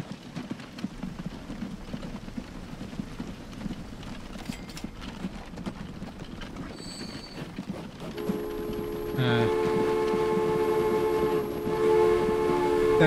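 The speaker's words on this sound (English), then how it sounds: "I need to wait for this train to exit so I can turn it around again" In the Transport Fever video game, rolling rail clatter and game ambience give way to a sudden loud, sustained multi-tone train horn that holds steadily through the last few seconds.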